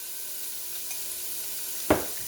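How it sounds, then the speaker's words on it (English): Cubes of chopped ham fry in a very hot pan, making a steady loud sizzle with one sharp, brief crackling burst near the end. "And to that pan, I'm going to add 3 cups of chopped ham."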